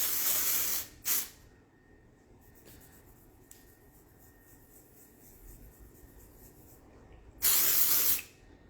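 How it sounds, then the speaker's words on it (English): Dry shampoo sprays from a can onto a hand in bursts: a long hiss, a short puff, then a quiet pause before a final sustained spray near the end. "I'm going to spray on here and then give it a rub."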